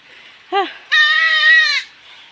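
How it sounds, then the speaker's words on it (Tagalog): A goat swept along by fast floodwater bleats twice, a short wavering call followed by a longer, loud sustained bleat, with faint background noise. "may naanod naman na kambing ha"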